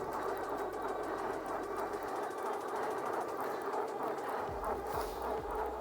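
An electric fat-tire Vtuvia SN100 eBike motor at pedal assist level 5 whirs steadily at speed, mixed with loud wind rush and road rumble while riding.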